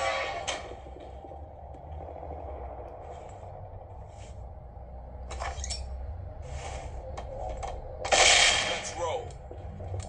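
A flashbang grenade goes off at a door in the tactical shooter SWAT 4, a sharp broadband bang standing out above a steady background of game ambience, with a few shorter bursts before it.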